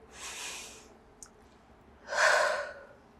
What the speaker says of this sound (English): Again, take a few deep breaths here.